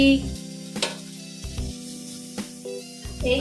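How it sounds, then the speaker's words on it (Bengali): Cauliflower frying in a pan gives a steady, close sizzle with a few stirring scrapes and soft utensil knocks, and no voices. "এই যে ফুলকপি ভাজা করছি"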